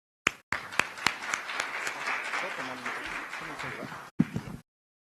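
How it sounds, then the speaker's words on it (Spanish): An audience gives a conference speaker a warm round of applause, dense steady clapping after a few sharp claps at the start, fading near the end. "a quien recibimos con un fuerte aplauso."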